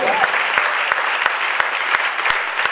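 An audience at a high school jazz concert applauds the big band, a dense, steady wash of clapping close at hand that carries through the whole stretch, punctuated by a few sharper, louder claps.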